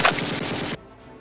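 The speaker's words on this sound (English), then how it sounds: "Lieutenant Meier fires away," An aircraft's forward cannon fires a rapid, loud burst of rounds at a bomber during a head-on attack run in a combat flight game, then cuts off abruptly into quiet.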